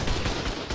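Rapid gunfire in ARK: Survival Evolved PvP combat, loud rattling bursts of automatic shots in quick succession, close and dominant.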